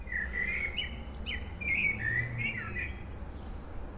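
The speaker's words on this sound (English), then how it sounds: "Listening to a blackbird during the time of the fairy dust." A blackbird sings in Hendon, London, in spring, delivering a run of clear, fluting whistled phrases with short pauses between them. The song rises over a steady low hum of distant traffic, and no one speaks.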